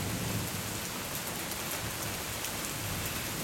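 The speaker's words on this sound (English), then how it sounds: "It's still hailing a bit, but it's mainly just raining now." Rain mixed with light hail falls steadily in Siena during a storm, a dense, even hiss and patter of drops on surfaces, loud and continuous with no talking.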